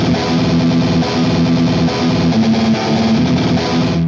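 A programmed, double-tracked distorted electric guitar part for a folk-metal arrangement plays a dense, steady chugging riff with sustained chord tones, loud and up front without a break, and no talking.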